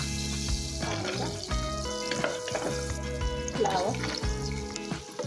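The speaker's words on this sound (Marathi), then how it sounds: "फ्लावर आणि कांदा थोडा परतून घेऊ आपण." Cauliflower and onion sauté in butter and oil for pav bhaji, a loud continuous sizzle with stirring scrapes layered over a steady hum.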